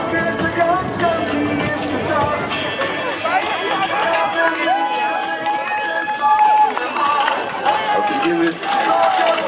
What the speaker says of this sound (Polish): Wielki doping ze strony publiczności dla pana Pawła.